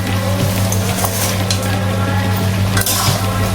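Bhetki fish bones being fried and stirred into oily spice paste in a pan, a steady sizzle with occasional scraping and stirring clatter, close and continuous.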